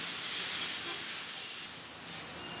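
Cauliflower leaves fry in a pan over medium-high heat, giving a steady, even sizzling hiss that stays close and constant throughout.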